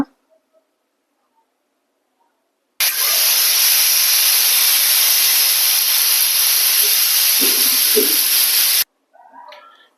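A pressure cooker cooking palak dal releases steam in one loud, sustained hiss lasting about six seconds, breaking a near-silent kitchen and cutting off abruptly, followed by faint background noise.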